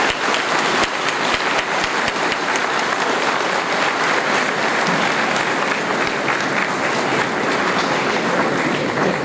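Sustained audience applause at a community talk on preventing gender violence, a dense steady wash of clapping that stays loud and even from start to finish, with no voices over it.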